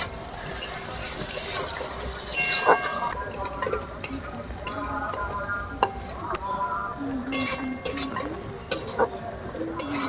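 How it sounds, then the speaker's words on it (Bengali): Chopped onions frying in white oil in a kadai, stirred with sharp metallic clinks and scrapes of a utensil against the pan over a soft, steady sizzle. "ওই তেলে আমি পেঁয়াজ কুচি দিয়ে দিচ্ছি। পেঁয়াজগুলো ভালো করে লাল করে ভাজতে হবে।"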